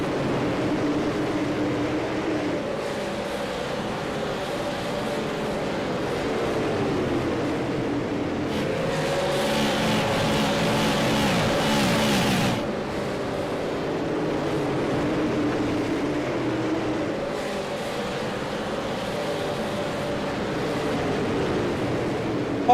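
Race cars lapping in a SARA Pierce Fleet Super Series race, a continuous loud engine roar that swells as a car passes close, then settles back to a steady drone, with no talk.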